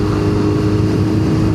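A Suzuki K4 GSX-R 750 motorcycle engine drones steadily while riding, a continuous loud hum with no break or talking.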